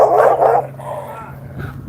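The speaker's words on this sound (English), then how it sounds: "Now that's my dog." A dog barks twice in quick succession, loud and close, followed by softer growling or whining sounds in a room.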